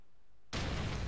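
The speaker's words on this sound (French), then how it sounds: "je vais lancer une grenade" A grenade goes off in Call of Duty 4, a sudden loud blast that bursts in after a short quiet moment and fills the clip with a dense roaring rumble.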